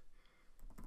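A short burst of typing on a computer keyboard, a few quick clustered keystrokes near the end, quiet and close.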